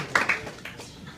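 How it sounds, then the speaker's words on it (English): A few scattered, fairly faint hand claps from an audience at a stand-up comedy set in a deli pop-up, two sharper claps early and then a thin, fading patter. "Please keep clapping."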